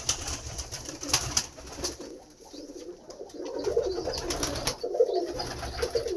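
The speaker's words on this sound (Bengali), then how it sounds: "অনেক পায়রা আছে লফটে" A flock of pigeons roosting in a Bagnan loft gives soft, rolling coos that swell and fade in overlapping waves, with some rustling and faint background noise and no talking.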